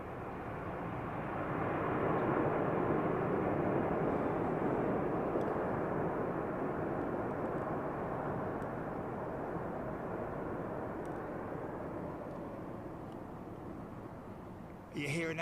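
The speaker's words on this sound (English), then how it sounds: "Are you hearing those reversers?" An MD-11 landing at Heathrow roars with its thrust reversers, a broad, sustained rushing rumble heard from a distance that swells and slowly fades, while someone talks over it.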